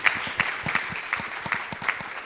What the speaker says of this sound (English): So I want you to clap for yourself for being in the room.